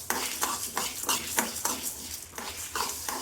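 Cumin, pepper and four dried red chillies dry-roasting in a pan, with soft rhythmic scrapes and rattles of a spatula stirring the spices at a regular pace, fairly quiet and close.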